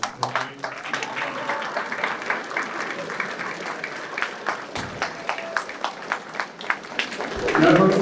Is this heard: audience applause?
yes